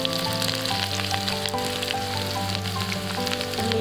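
Onion frying in a pan with curry leaves for bitter gourd curry, a steady crackling sizzle with scattered pops, close and moderately loud, with a low background hum.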